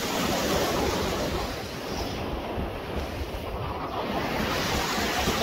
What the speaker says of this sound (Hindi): जो पानी है टंकी का, उसी का पानी आ रहा है, ये फिल्टर होके पानी आता है यहाँ